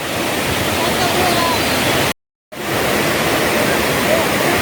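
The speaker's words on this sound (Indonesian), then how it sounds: "Ada 2 curug, 2 air terjun." Steady, loud roar of rushing water from a waterfall in a forested valley in Sukabumi, Indonesia, broken by a brief moment of silence before the roar resumes.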